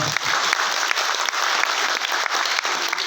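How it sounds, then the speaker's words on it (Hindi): A crowd at an RCM business seminar applauds steadily, many hands clapping in a continuous moderately loud wash with a few sharper claps standing out, and no voice over it. "एक बार ताली तो बनता ही है"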